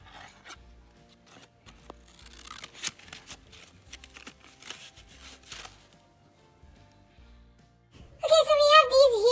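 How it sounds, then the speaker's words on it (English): Scissors snipping paper petals for a handmade paper rose, a series of soft rasping cuts and rustles close by, ending in a louder burst of noise. "I'm going to cut out 4 petals this time,"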